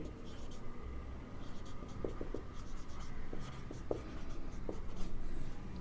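A teacher writes oxidation states for chlorine during a chemistry lesson on halogens, producing a few short, soft scratching strokes at close range over a steady background hum.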